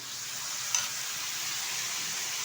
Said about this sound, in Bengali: ভালোভাবে একটু নেড়ে চেড়ে নিচ্ছি